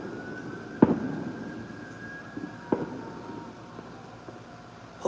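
Fourth of July fireworks burst in the distance, a few sharp isolated bangs spaced a couple of seconds apart over a faint background hum that carries a thin, drawn-out siren tone.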